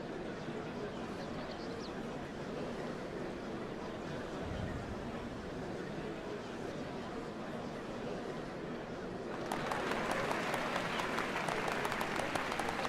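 Crowd applause in Final Fantasy XIV at a ceremony for the changing of Dawnservants, a steady broad wash of clapping throughout that swells louder and brighter near the end.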